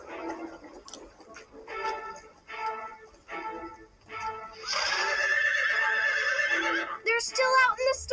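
A horse whinnies in a video game, a long, loud neigh rising over a stretch of stable ambience. Talk-like murmurs come before it, and a shorter whinny cuts in at the end.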